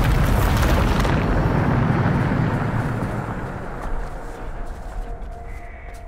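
A loud Bombarda spell blast in the video game Hogwarts Legacy erupts with a deep, rumbling boom that slowly fades into a lingering roar and debris over several seconds, with no talking.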